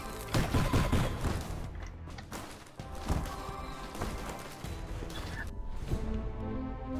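A bomb goes off in the video game UnderMine amid a busy stream of clattering impacts, rapid popping bursts and game music, with dense, loud activity throughout and no talking.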